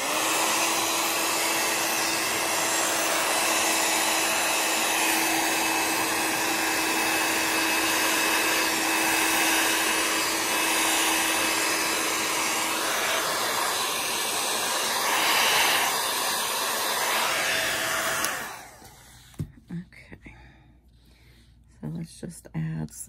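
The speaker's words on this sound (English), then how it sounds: "And hit it with the heat tool." Heat tool blowing hot air onto alcohol ink, a loud steady rushing hiss lasting most of the clip before cutting off near the end, followed by quieter handling sounds.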